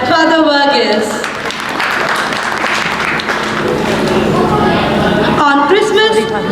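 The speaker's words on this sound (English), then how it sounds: "A very, very huge round of applause" Crowd applause at a Christmas program rising and sustaining, with a voice speaking over it at the start and end.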